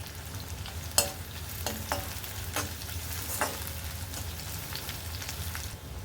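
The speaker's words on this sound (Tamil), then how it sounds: "இந்த வெங்காயம் வதங்கிட்டே இருக்கட்டுங்க இதோட இஞ்சி துருவி வச்சுருக்கிறதையும் சேர்த்துக்கிறேங்க இதையும் சேர்த்து வதக்கிக்கலாம்" Chopped onions and grated ginger sauté in an oil-filled pan with curry leaves and asafoetida for an injipuli relish, a soft continuous sizzle broken by a few sharp scrapes and stirs of a spoon.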